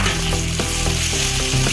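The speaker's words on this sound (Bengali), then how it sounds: "পেঁয়াজগুলো 2 থেকে 3 মিনিটের মতো ভালোভাবে আমি ভেজে নেব।" Sliced onions frying in hot oil with garlic, loud dense sizzling close up, with a few rhythmic scraping stirs cutting through the hiss.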